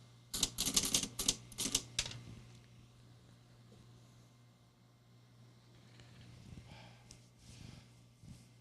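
A Juki Sierra typewriter's mechanism, including its shift system, is worked during a repair. About eight sharp, close metallic clacks come in a quick burst, then give way to faint, scattered mechanical rattles and taps.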